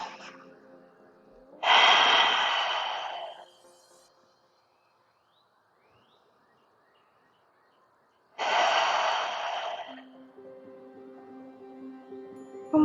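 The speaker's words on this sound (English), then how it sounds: "we're just going to take a few breaths here" Two deep breaths during a yoga stretch for hikers, each a long breathy exhale of about two seconds. They are close and clear, separated by several seconds of near silence.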